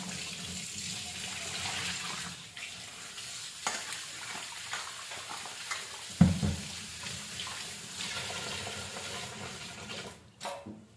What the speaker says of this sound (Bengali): এখানে দেখো মাছটা ধুচ্ছি